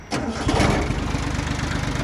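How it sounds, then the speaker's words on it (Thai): A small Japanese direct-injection tractor engine cranks and catches almost at once, then settles into a close, even, rapid diesel chugging. "ฟังเสียงครับสตาร์ท"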